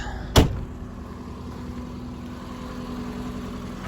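A 1998 Subaru Legacy Outback engine idles steadily with a faint ticking clatter from noisy lifters, after a brief thump near the start.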